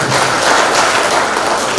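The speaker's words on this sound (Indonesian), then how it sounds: "tepuk tangan untuk Anda semua" A burst of applause from a seminar audience, dense and steady clapping from many hands throughout, fairly loud.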